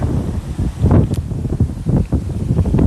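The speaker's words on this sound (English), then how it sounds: "Can't believe the wind." Strong gusting wind buffeting the microphone outdoors on a park trail in Fort Lauderdale, a loud continuous low rumble swelling and easing in waves.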